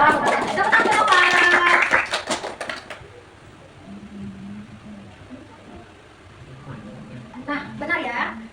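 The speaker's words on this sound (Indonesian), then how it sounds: "tepuk tangan dulu, Pak." Audience in a training session claps in a short, brisk burst that stops after a few seconds, followed by quieter room noise and faint murmuring voices, with a brief sharper patter near the end.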